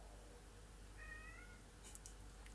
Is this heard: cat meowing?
yes